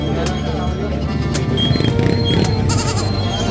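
Goats bleat intermittently at a livestock market through a busy, noisy background of crowd chatter and people talking nearby.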